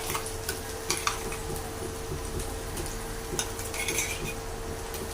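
Ginger garlic paste sizzles and fries in a pan while a utensil stirs and scrapes it steadily, with occasional metallic clinks; a low hum runs underneath throughout.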